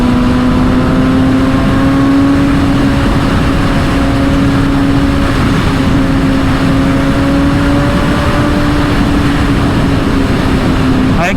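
Kawasaki ZX-6R motorcycle ridden fast on an Indian road, a steady loud engine drone with a sustained high pitch and constant wind rush throughout, no pauses.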